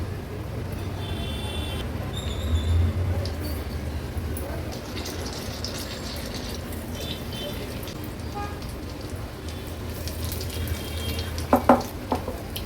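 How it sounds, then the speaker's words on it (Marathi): Chili bhaji dropped one by one into hot oil to deep-fry, giving a steady, fairly faint broadband sizzle with low rumbling background noise and a few sharper crackles near the end. "एक एक करून ही मिरची भजी तेलामध्ये सोडते"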